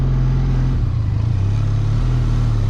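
A Benelli TRK 502 motorcycle engine rumbles steadily at low revs while being parked after a long ride, its deep drone continuous and close, with a slight dip in pitch partway through.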